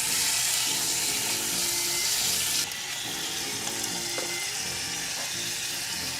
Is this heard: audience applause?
no